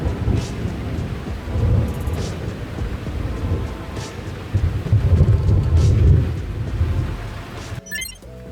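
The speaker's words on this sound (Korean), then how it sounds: "천둥이 멈출 기미가 없다." A summer thunderstorm over a countryside garden brings steady heavy rain, with deep rolling thunder swelling twice, loud and close, before the rain cuts off abruptly at the end.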